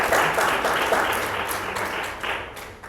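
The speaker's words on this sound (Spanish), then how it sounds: "Ya le dieron el aplauso respectivo." Dense applause from listeners after a medical lecture on post-COVID chest imaging, steady and full, slowly easing off toward the end.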